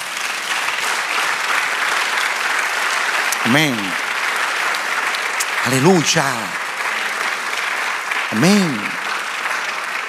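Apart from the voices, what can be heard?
applause in church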